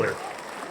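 Brief burst of audience applause in a tavern, quick clapping that fades within a fraction of a second, faint and somewhat distant, with a voice speaking over it.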